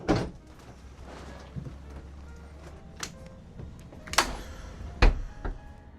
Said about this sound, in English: You got 6 pull-out drawers.